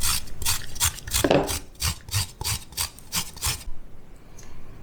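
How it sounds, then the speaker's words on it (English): Fresh ginger rubbed over a grater into a bowl, a steady run of about a dozen rasping strokes in even rhythm, close and fairly quiet, stopping near the end. "So we're going to grate into another bowl, and we want about 1/2 tablespoon of fresh grated ginger."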